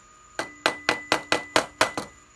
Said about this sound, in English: If I tap it a little bit.